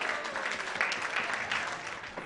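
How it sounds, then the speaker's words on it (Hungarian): An audience claps for a ceremony host's guest, a dense, steady patter of applause from a crowd that lasts throughout at a moderate level, with a little voice in it. "Tapsoljuk meg!"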